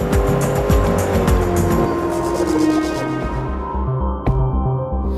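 Bugatti Veyron 16.4 racing in the video game Forza Motorsport 3, its engine roaring loud and continuous with rising revs, tire squeal and a sharp gear-shift or impact near the end, no talking.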